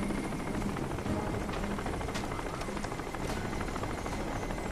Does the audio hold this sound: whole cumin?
no